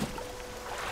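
Steady low drone of a small fishing boat's motor in the video game Dredge, constant and close with no break over about a second.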